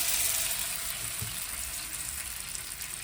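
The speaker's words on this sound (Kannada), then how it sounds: "ಇವಾಗ ಮೀನನ್ನು ಹೇಗೆ ಪ್ಯಾನ್ ಮೇಲೆ ಹಾಕ್ತಾರಂತೆ ನೋಡೋಣ." Fish frying in a pan at home, a steady close hiss and crackle that fills the whole stretch with no talking.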